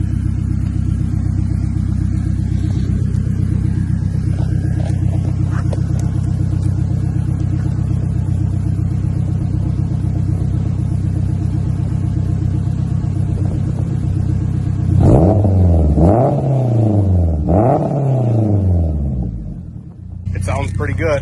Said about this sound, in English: This is a Skunk 2 3-inch exhaust all the way back.